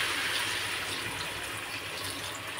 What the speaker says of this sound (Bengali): একটু জল ঢেলে দিই